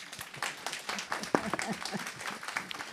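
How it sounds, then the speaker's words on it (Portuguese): A room of people claps for a deputy at a parliamentary front meeting on tuberculosis, HIV and diabetes, giving a moderate, uneven patter of hands with voices mixed in. "pode aplaudir o deputado Luiz Paulo?"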